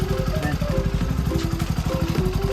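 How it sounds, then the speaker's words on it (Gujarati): A motorcycle engine idles steadily and close by, a low throbbing rumble with a regular pulse that continues throughout without cutting out. "અહીંયા બાઈક બંધ થઈ ગયું."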